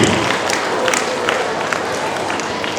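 Audience applause at an international karate tournament, a steady wash of clapping from a large crowd filling the room at moderate volume without a clear break.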